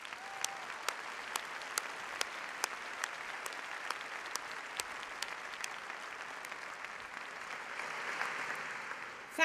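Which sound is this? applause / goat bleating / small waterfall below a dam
applause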